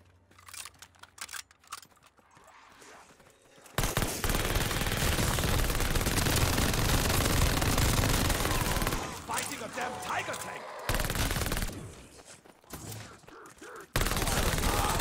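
Sustained automatic gunfire from a weapon in Call of Duty Vanguard Zombies, loud and dense for several seconds, with brief pauses and then bursts resuming, over a noisy game mix.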